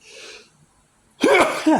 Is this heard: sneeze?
yes